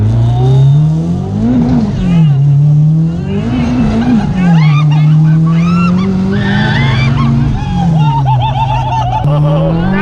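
A 661 HP Honda R34 GT Type R with a slipping first gear, its engine revving and rising in repeated loud, close surges while people talk and shout over it.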